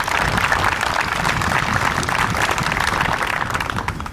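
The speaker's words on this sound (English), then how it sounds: "So I ask all of you to give them a special round of applause." Dense, sustained applause from a large audience at an opening ceremony, an even wash of many hands clapping at once, loud and steady throughout with no clear speech.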